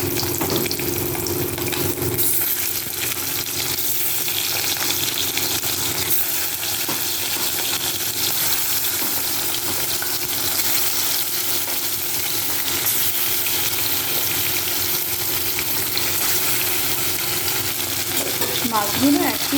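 Pieces of Rui fish fry in hot oil with a loud, continuous, crackling sizzle that holds evenly for about twenty seconds, close by and with no talking.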